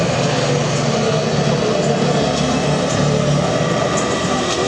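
Grumman E-2 Hawkeye carrier-based turboprop aircraft flying over an air show, a loud, steady propeller and engine roar that holds unbroken at close range throughout.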